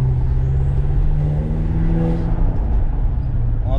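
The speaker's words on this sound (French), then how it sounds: "On entend un peu le bruit du turbo." A BMW M5 F10 with a V8 biturbo engine idles and hums steadily nearby after an alternator replacement, with a faint turbo whine rising and falling over the low engine drone.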